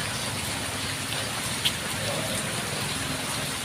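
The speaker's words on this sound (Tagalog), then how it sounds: "Ulan, lakas." Steady, dense hiss of heavy rain falling hard on surfaces, continuous throughout with no voices.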